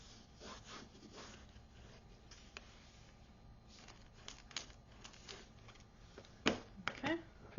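A paper flap on a handmade mini album is pressed and burnished down, giving soft scraping and rubbing strokes, close and fairly quiet, ending in a couple of louder rubs.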